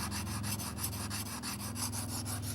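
Crook knife blade rubbed on sandpaper laid on a board, giving a steady run of quick, rhythmic scraping strokes, close and fairly quiet with no talk.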